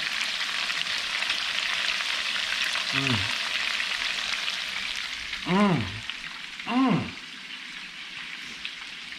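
Lamb lollipops sear in a hot pan with thyme and rosemary, giving a steady, close sizzle throughout while someone talks over it.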